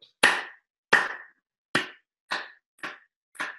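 Six single hand claps ring out sharply in slow, uneven succession, each one loud and close with a short decay, in a quiet room without talk.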